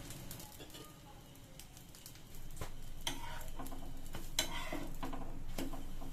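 Rava set dosa cooking with a little oil on a hot pan, with a faint, steady sizzle that grows slightly louder partway through, broken by a few soft clicks and scrapes of a utensil.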